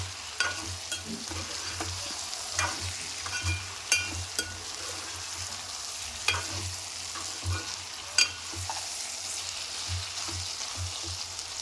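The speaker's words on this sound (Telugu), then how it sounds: "దాన్ని ఇప్పుడు పచ్చివాసన పోయే వరకు వంకాయలతో కలిపేసి మొత్తం ఫ్రై చేసుకోవాలి" Brinjal pieces fry with masala paste in a pan for a Telugu brinjal curry. A soft, steady sizzle runs throughout, with frequent scraping and clinking from stirring and no voices.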